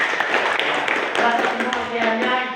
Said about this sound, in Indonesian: Ya, tepuk tangan untuk itu